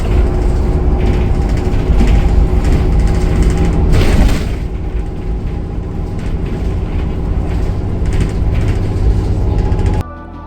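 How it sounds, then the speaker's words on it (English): A very shaky airport bus ride rumbles and rattles loudly and continuously, with a low engine drone, a louder burst of jolting around the middle, and a sudden drop in noise at the very end. "this is a very, very shaky bus. I'll let you just listen to this for a little bit."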